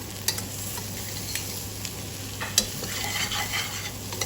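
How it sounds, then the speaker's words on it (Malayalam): Coriander and turmeric powder fry in a steel cooker for a bitter gourd theeyal, giving a steady soft sizzle, while a spoon scrapes and taps the pot in irregular strokes. "സ്റ്റീൽ കുക്കറിലായതുകൊണ്ട് തന്നെ അടി പിടിക്കാൻ ചാൻസ് ഉണ്ട് അപ്പോൾ ഇളക്കി കൊടുത്തുകൊണ്ടേ ഇരിക്കാം"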